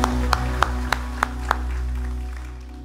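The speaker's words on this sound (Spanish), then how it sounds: "Vamos a dar un aplauso a nuestro Dios." A church congregation claps six times in an even, steady rhythm, each sharp clap ringing out over a low sustained instrumental hum, with the clapping stopping and the hum fading.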